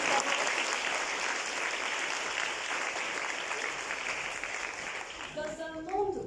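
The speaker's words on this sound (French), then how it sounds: "on applaudit bien fort les organisateurs" An audience at a festival closing ceremony applauds the organisers with sustained, dense clapping that fades slightly, and a voice begins speaking near the end.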